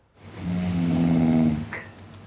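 A single long, close snore, a rumbling drawn-out breath that swells and fades within a couple of seconds.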